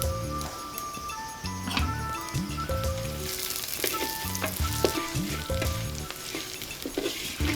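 Hand-pounded garam masala hits hot mustard oil in a loud, continuous sizzle and crackle, with rhythmic ticking and clicking sounds running through it.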